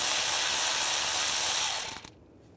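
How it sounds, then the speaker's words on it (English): A ratchet with a 10mm socket works a bolt loose on an ignition coil of a RAM 1500 3.6L V6, a fast, close clicking whir that runs steadily and then sputters to a stop. "using a 10mm socket, take this bolt out"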